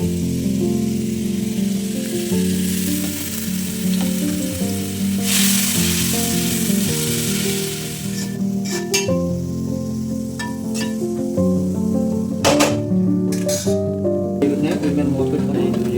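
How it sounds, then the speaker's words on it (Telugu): Onions, green chillies and curry leaves sizzle in hot oil for a chicken curry, a steady loud frying hiss with occasional spattering pops and stirring, while a person talks over it. "ఇందులో మనం ఉల్లిపాయలు, పచ్చిమిరపకాయలు, కరివేపాకు వేసుకున్నాం."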